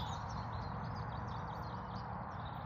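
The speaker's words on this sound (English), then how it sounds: "Birds singing." Birds sing in a community garden in the morning, faint high chirps repeating through a steady low outdoor rumble, with no voices.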